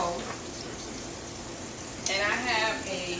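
Pork chops fry in a pan of hot grease under a screen protector, a steady soft sizzle that swells with sharper crackling partway through, while a person talks.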